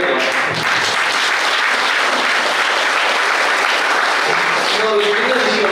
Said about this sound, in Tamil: நீங்கெல்லாம் தாராளமாக கைதட்டலாம்.